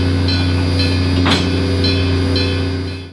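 Great Smoky Mountains Railroad steam engine 1702 sits close by with a loud, steady mechanical hum, and a brief hissing burst rises partway through.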